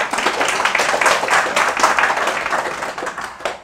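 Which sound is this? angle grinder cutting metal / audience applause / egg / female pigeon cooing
audience applause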